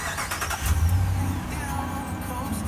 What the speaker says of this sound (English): For the remote start, we push the round button one time and the engine will crank.